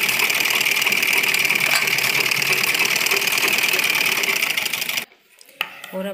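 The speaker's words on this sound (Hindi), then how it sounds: "इस तरह से, और इसके चारों तरफ कच्ची सिलाई लगाएंगे।" A sewing machine stitches kurti fabric in a steady, loud mechanical whir for about five seconds, then stops abruptly, leaving faint handling noises.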